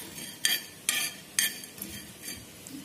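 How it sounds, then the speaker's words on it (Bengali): Black peppercorns, white peppercorns and cloves roasting in a pan for biryani masala, stirred in several scraping strokes with a light clink. The first strokes are crisp and the later ones grow softer. "এগুলোকেও হালকা করে ভেজে নিতে হবে।"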